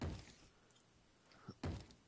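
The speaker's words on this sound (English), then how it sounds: "Are you gonna bang in the door?" A zombie banging on a wooden door in Minecraft: two dull, heavy thuds about a second and a half apart, close and fairly quiet.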